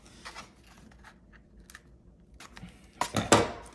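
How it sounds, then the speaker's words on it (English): Dull scissors snip through tape on a cardboard wildebeest headdress, giving a few faint scattered cuts and then a louder crunchy double cut near the end, up close with no talking. "I'm just gonna cut off the extra tape there"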